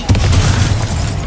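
The Bombarda spell detonates in a Hogwarts video game duel, a loud, close, booming blast with a deep rumbling low end that fills the brief moment without pause.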